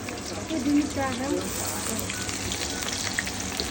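Onion and dry red chillies fry in oil for dal, making a close, steady crackling sizzle like light rain, with a brief muffled voice near the start.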